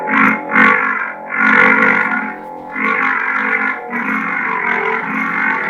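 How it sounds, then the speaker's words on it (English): A Sabertrio Vektra Neopixel lightsaber gives off a menacing, distorted, tube-like hum with the highs and mids cut off. It swells in several surges over a few seconds, loud and close, with no talking. "And this is like this menacing like hum."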